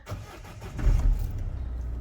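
A micro camper's car engine cranks and catches, then settles into a steady low rumble, close and moderately loud, with no talk.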